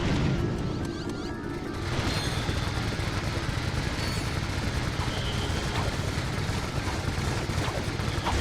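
Turret shots in the Ratchet & Clank video game, rapid bursts of gunfire and booming impacts layered over busy game sounds, quieter at first and then constant and loud.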